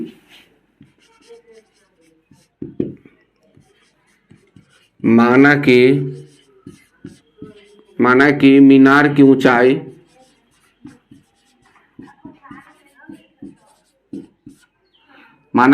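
Someone writes on a board while working a class 10 geometry problem, leaving short, scratchy strokes and taps in the quiet gaps between two bursts of speech.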